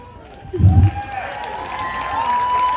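A crowd at a sea lion show at the Long Island Aquarium breaks into clapping and cheering, a short loud burst that settles into a lighter, steady patter with a thin whistle-like tone running through it.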